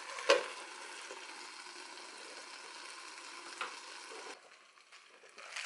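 Potatoes sautéing in butter in a covered skillet, giving a soft, steady sizzle and crackle that stays faint and continuous, with a brief clink near the start.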